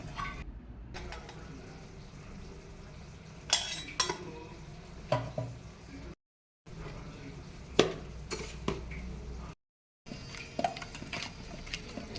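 Spoon scraping and clinking in a pot while chili powder, coriander powder and turmeric are stirred into chicken gravy, with brief pauses and a few sharp metallic knocks against the pan over a low background.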